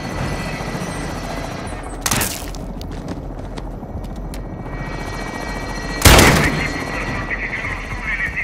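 Helicopter in the video game Call of Duty Modern Warfare 2, a continuous rotor drone under bursts of gunfire and two loud sharp impacts, with faint voices in the mix.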